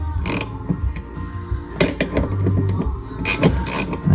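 A lock nut bolt is unscrewed on a 2019 Can-Am Defender during shifting cable replacement, with close ratcheting clicks, metallic taps and brief scrapes in an irregular rhythm.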